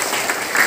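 Classroom applause in an Islamic history lesson, a short burst of clapping from a group of students, fairly loud and close, lasting under a second.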